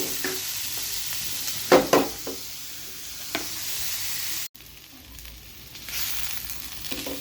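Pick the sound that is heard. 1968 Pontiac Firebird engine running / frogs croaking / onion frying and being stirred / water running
onion frying and being stirred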